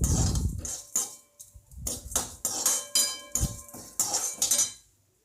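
Cooked, drained rice tipped into a pan, giving a series of short clinking, scraping knocks of a utensil against metal, close and moderately loud with brief pauses between strokes.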